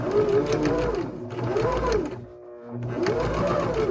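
Close and steady, a sewing machine runs in bursts as it stitches a folded waistband onto a skirt, with a rhythmic mechanical whir that pauses briefly before starting again.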